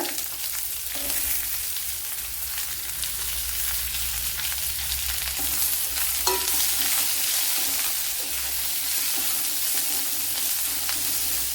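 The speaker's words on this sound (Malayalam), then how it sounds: "ഒരു സവാള ഇതുപോലെ അരിഞ്ഞെടുത്തിട്ടുണ്ട് അതിട്ടുടുക" Sliced onion frying in a hot pan for okra mappas gives a steady, loud, close sizzle with faint stirring scrapes throughout and no voices.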